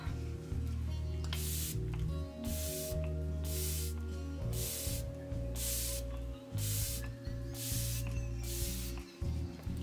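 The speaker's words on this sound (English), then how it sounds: "I go in and I do like one layer of setting spray" Setting spray mists onto a made-up face in a series of about eight short, evenly spaced hissing bursts, close and fairly quiet over a steady low background hum.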